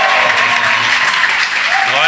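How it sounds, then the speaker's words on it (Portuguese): A church congregation applauds loudly and steadily as a dense wash of clapping, with a few voices faintly rising beneath it toward the end. "Vamos dar uma salva de palmas para minha mãe, por favor."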